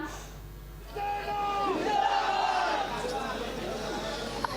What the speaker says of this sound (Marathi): पुण्यामध्ये जल्लोष सुरू आहे शिवसैनिकांचा